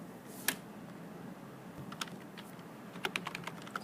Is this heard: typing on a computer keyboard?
yes